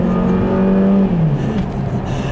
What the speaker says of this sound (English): I'll leave you guys with a nice little acceleration here, like I always do. There's the wheel spin.